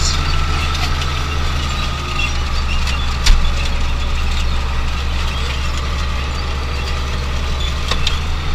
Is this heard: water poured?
no